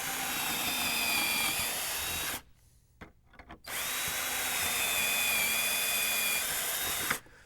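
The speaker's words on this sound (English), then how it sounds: "We'll just take this jig, set it down like this, and drill our holes." A power drill with a 3/16 aircraft bit boring hardware holes through a wooden arch raised panel cabinet door using a jig, two steady close whining runs with a short pause between them.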